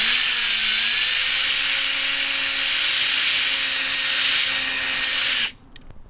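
A cordless drill fitted with a polishing ball buffs a Mercedes W204 C-Class taillight, giving a loud, steady high whine with a slight pitch wobble early on before it cuts off abruptly near the end.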